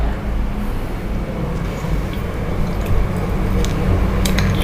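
Thick sweet rava bonda batter being stirred by hand with a little added water, a steady wet squishing and slapping that runs continuously and close up with no talking.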